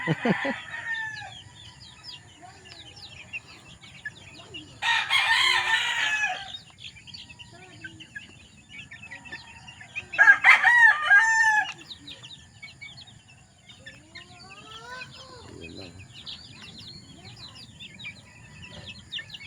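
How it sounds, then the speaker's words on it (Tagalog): Three-week-old chicks let out on an outdoor range for the first time, giving scattered peeping and chirping calls with a few louder bursts of clucking and cackling, faint at times over low background noise. "kaganda natin mga sisiw sa range"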